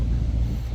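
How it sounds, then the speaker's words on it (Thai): Wind buffets and rumbles low and steady by the Pa Sak River, a brief, dull roar without other distinct sounds. "เสียงลม"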